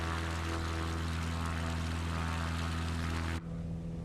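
A propeller aircraft drones steadily in flight, its loud engine hum holding strong low harmonics for about three and a half seconds before the pitch and level shift abruptly as flaps go up; no one speaks.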